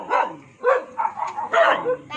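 A dog in a poor neighborhood of Binh Chanh barks in several loud, close bursts with yipping, whining tones, separated by brief pauses.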